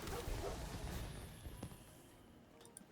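A dog token sound effect in Magic: The Gathering Arena: a short, moderately quiet bark and yip at the start, then a few faint chimes as it fades.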